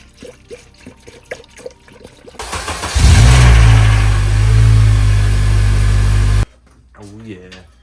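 An Acura TSX engine starting up and idling during a coolant bleed, a sudden crank into a loud, steady idle with a strong low rumble that cuts off abruptly, with talking before and after.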